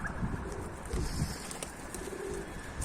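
A pigeon coos softly a few times in the background, faint beneath steady outdoor noise.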